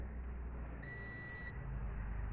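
A digital multimeter gives one steady electronic beep of about a second in the middle while a laptop capacitor is being tested, faint and alone against low background hum.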